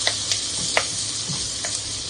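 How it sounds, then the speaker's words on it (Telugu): Drumstick leaves sizzle steadily in hot oil in a home kitchen, with a continuous frying hiss and a few sharp stirring clicks and scrapes spaced through the short stretch. "దాన్ని ఈ నూనెలో మళ్ళీ ఇట్లా వేయించితే టేస్ట్ బాగా వస్తుంది అన్నమాట"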